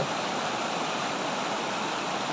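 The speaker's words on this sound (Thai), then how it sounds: "น้ำป่าไหลหลากน่ากลัวมากเลย" Flash flood water rushing hard after heavy rain, a dense, steady roar of turbulent flow, loud and close, with no break and no voices.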